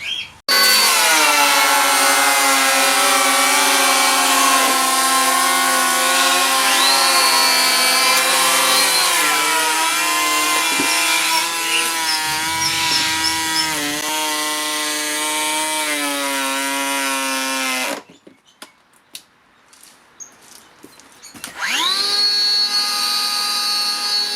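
Cordless 18V power planers shaving wood at a 2 mm depth of cut, a loud sustained high-pitched whine running steadily for about eighteen seconds, then a short pause before the motor spins back up alone.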